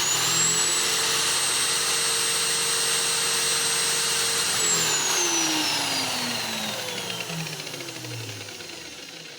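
A motor on a homemade grinding machine runs idle with a loud, close, steady whine and hum, then winds down as its pitch falls and it fades over the last few seconds.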